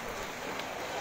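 Steady rain falls on a flooded street in Las Piñas, a dense, even hiss of drops with no clear speech over it.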